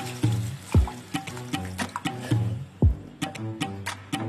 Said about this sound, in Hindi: तो अब हम इसमें पानी ऐड करेंगे 2 कप।